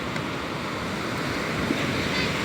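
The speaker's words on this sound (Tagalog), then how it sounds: "susubukan nila itong malaking alon na ito" Big waves out at open sea, heard as a steady loud rushing wash with wind noise throughout, no voices.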